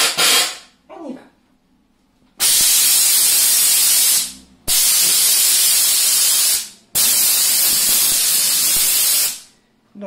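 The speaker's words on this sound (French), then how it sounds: "la vapeur qui sort au bout du pistolet est à 120 degrés" A Vapodil steam cleaner gun blasts dry steam inside a microwave oven in three long, loud hissing bursts of about two seconds each, separated by brief pauses, following a short breathy puff at the start.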